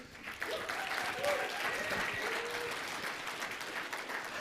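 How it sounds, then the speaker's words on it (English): Audience applause for Bill Harney, CEO of Keeping Current Manners, at a marketing leadership event: a steady moderate clapping wash with murmured voices underneath, continuing throughout. "So they're supposed to clap a little longer."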